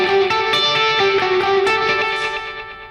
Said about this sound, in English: But I'm just using that as a reverb, really. Right. And a space echo.